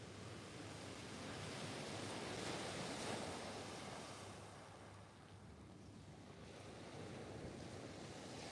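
Strong coastal wind of about 30 mph buffets the microphone on a UK sea-fishing shore, mixed with steady surf and waves, loud and continuous with gusty swells throughout and no talk.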